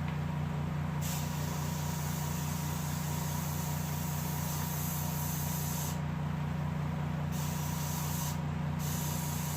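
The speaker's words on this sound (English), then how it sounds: "But I'll get what I can with airbrush." An airbrush sprays paint onto a bobcat taxidermy mount, giving a steady faint hiss over a constant low compressor hum, with a few brief gaps in the spray.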